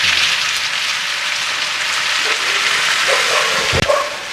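Pork sizzles loudly in a hot pan for igado, a steady close hiss, with a clatter near the end as soy sauce is added.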